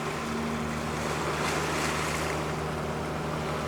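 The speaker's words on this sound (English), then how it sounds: "this boat zips past us" A 120-foot boat speeding past at 18 knots on the sea, heard as a steady broad rush of water and wind with a low droning engine hum throughout.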